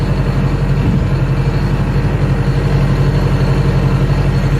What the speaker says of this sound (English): You feel the tractor kind of jarring and bouncing and things as it hooks on rocks and hard spots in the soil.